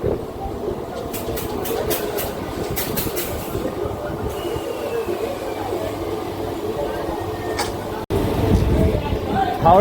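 A Howrah to Panskura local train runs along near Nandaigajan station, heard from inside as a steady rattling rumble with clicking wheel beats, and a burst of louder noise near the end.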